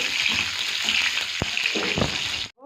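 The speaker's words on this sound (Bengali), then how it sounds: "কড়াইয়ে তেল দিয়েছি, আমি পটলগুলো আগে ভেজে নিই। পটলগুলো ভাজছি" Pointed gourd pieces frying in hot oil in a wok, giving a steady, close sizzle with a few sharp spatters and stirring clicks before it cuts off abruptly near the end.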